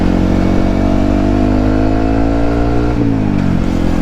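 A loud Yamaha WR155 supermoto engine drones steadily through its exhaust, the pitch climbing, then dipping and rising again near the end, close and unbroken.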